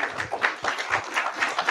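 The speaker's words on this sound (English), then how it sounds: "Everyone give a big round of applause." An audience applauds at an evening event with sponsors, clapping briskly in a short, steady burst at moderate loudness with no voices over it.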